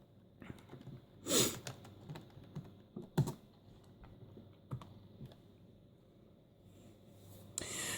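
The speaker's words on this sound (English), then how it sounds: "I probably should switch to using the keyboard" Scattered keystrokes tap on a Toshiba T1910 laptop keyboard, quiet and close, a handful of isolated clicks and a couple of sharper bursts against a faint background.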